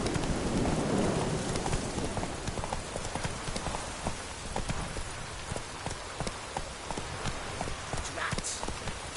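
Hooves of Geralt's horse Roach in The Witcher 3 clip-clop at a fast, steady gallop over ground, with rain pattering in the background throughout.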